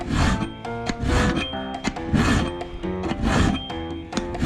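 Rhythmic rasping strokes of a hand file on metal, back and forth about twice a second, close and fairly loud.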